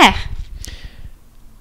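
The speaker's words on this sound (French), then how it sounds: "I have never heard so many dogs barking at once." Dogs bark in a kennel, a sharp close bark followed by a fading tail of softer barking and whimpering.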